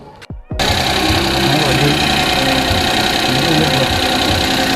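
A Suzuki DA64W engine, just fitted with a replacement engine support, idles steadily and loudly after a short burst of clatter at the start, with a continuous close mechanical drone.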